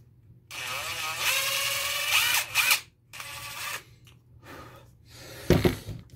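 Power drill unscrewing a part on a Traxxas UDR RC truck, several short whirring bursts of varying pitch separated by pauses, close and fairly loud, ending with a brief clunk.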